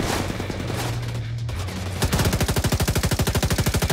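Rapid automatic gunfire in The Division 2 aimed at a drone in the sky, a fast, steady, loud burst of shots starting midway and continuing to the end after a stretch of noisy game ambience.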